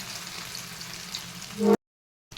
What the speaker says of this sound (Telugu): కలిపెట్టుకున్న ఫిష్ ముక్కలు వేసి ఫ్రై చేసుకోవాలి ఇలా ఇలా ఫ్రై చేయాలి